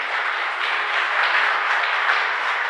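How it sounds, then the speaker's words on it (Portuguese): A church congregation applauds during a worship service, with dense, steady clapping from many people filling the room at an even level throughout. "vamos aplaudir a Jesus, querido."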